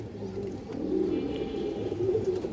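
Steady low cooing from a pair of active domestic pigeons, a soft rolling murmur that swells slightly midway and carries on without any voices.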